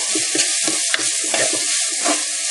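Red onions with a little salt browning in a pan for Sri Lankan tripe curry: a steady, close sizzle with repeated scraping stir strokes, and no voices.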